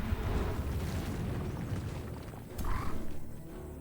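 Suppressing barrage attack in the Age of Wonders 4 video game: a dense, rumbling roar of booming impacts runs throughout, with a louder burst of blasts near the end.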